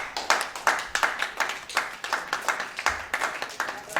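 People at a business opportunity expo clap steadily, with a quick, fairly even run of close, sharp hand claps. The claps blend into a lively patter that lasts several seconds.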